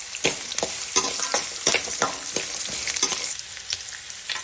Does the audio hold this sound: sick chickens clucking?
no